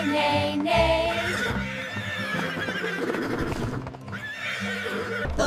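Horses whinnying and neighing in repeated bursts amid clip-clop hoof sounds, loud and close, with no speech over them.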